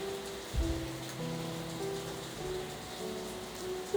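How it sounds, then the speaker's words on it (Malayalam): Chopped onion sautéing in hot oil in a pan for Maggi masala noodles, a steady soft sizzle and crackle running throughout, with one brief louder clatter near the start and no talking. "ചെറിയൊരു സവാള ചെറുതായിട്ട് കട്ട് ചെയ്തത് നമുക്ക് അതിലേക്ക് ചേർത്ത് കൊടുക്കാം എന്നിട്ട് ഇത് നല്ലപോലെ ഒന്ന് വയറ്റിയെടുക്കാം"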